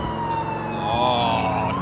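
Police car siren in GTA IV during a pursuit, a wailing tone sweeping up and down continuously over steady engine and traffic noise, fairly loud and close.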